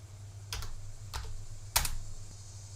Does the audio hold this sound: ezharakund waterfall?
no